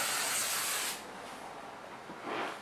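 Can of hairspray sprayed onto a glass 3D printer build plate: a close, loud hissing burst for about a second, a quieter stretch, then a second short spray.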